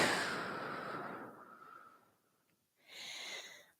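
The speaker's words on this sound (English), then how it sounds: "you're going to sniff, sniff, sniff, sniff until you're completely full" Quick sniffing inhalations during a breathing drill in a core and spinal mobility fitness class: a close, breathy stretch of air drawn in, a short pause, then another brief burst of sniffing, with no talking.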